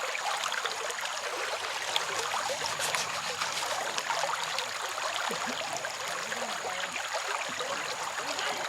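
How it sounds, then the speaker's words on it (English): A steady rush of water pours and trickles through a gold-mining sluice set in a Wisconsin stream, continuous and fairly close, with no talking over it. "So I set my sluice up back where it was originally, and I'm hoping that's not too much water"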